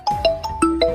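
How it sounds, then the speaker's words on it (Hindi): A phone ringtone plays a quick run of bright melodic chime notes, loud and close, about five tones within one second. "बॉस का फोन।"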